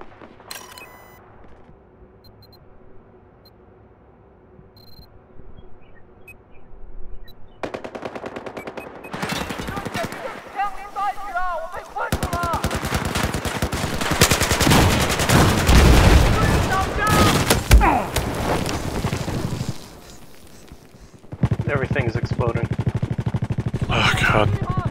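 Battlefield 4 close-quarters combat: bursts of automatic gunfire and explosive shots crackle loudly through the middle stretch, with quieter game ambience at the start and renewed firing toward the end.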